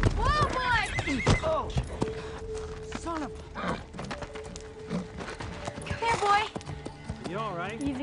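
A horse whinnies several times, loud and near, among clip-clopping hooves and bit and tack jingles, while people talk and call to the animal in between.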